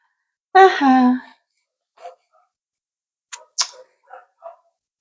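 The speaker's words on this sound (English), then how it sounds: "Listen to those dogs barking next door." A few short barks from dogs some distance away, scattered over several seconds with quiet gaps between them.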